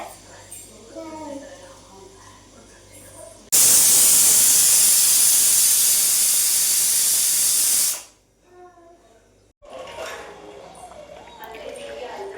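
A pressure cooker with dal and rice vents steam in a loud, continuous hiss lasting several seconds, then cuts off abruptly, with quieter household sounds and a voice heard before and after.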